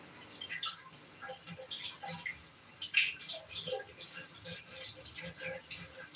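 Water from a running shower in a very small, cramped stall, a steady close hiss of spray with faint splashes and rattles, and a little muffled talk underneath.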